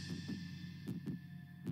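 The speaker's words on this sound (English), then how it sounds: "in this scene, the guitar quiets, and you just hear the lub-dub of a heartbeat" A heartbeat plays in a song from the animated series Alien Stage after the guitar drops away: soft, deep paired lub-dub beats repeat steadily over a low sustained hum.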